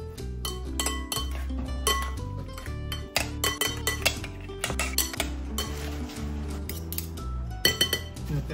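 Mayonnaise sauce for dinakdakan is mixed in a bowl, making repeated close clinks and scrapes of a utensil against the bowl at an irregular rhythm, with no talking.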